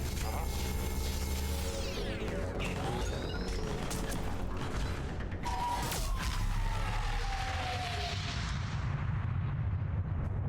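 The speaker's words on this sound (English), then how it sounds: "Harvester's firing on the Turians!" Heavy explosive weapon fire from a Harvester attacking Turian forces in the video game Mass Effect 3, loud booming blasts and rumbling over a dense battle din with sweeping whines throughout.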